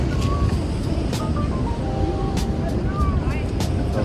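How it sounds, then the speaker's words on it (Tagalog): Water thunders over Niagara Falls in cold weather, a steady, dense roar filling the whole scene without letup, heard close and loud. "nandito kami ngayon sa mismo Niagara Falls"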